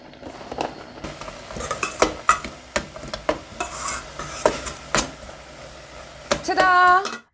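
A pot of Bahamian coconut tart filling cooking down while being stirred, with repeated clinks and scrapes of a utensil against the pot and a faint simmer beneath, and a short high squeal at the end.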